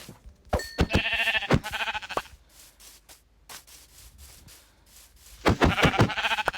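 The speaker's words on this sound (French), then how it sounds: "Bon, j'ai trouvé plein de moutons." Sheep bleating in the Minecraft video game, repeated short bleats in quick bursts at the start and again at the end, clear and close with quieter gaps between, no talk.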